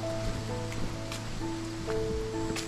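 River water flows steadily through a forest, a constant close broadband rush without pauses, with faint steady tonal hums layered underneath.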